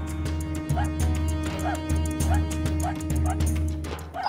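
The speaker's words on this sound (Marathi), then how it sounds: "या कुत्र्याच्या भुकण्याचा आवाज नेहमीसारखा नाही." A dog near the great gate of a fort barks in a steady, repeated rhythm, each bark evenly spaced over a low continuous drone.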